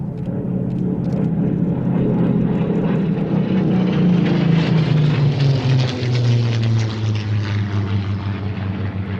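A propeller aircraft engine at an airshow drones loudly and steadily, its pitch sliding downward as it passes close by, with no voices.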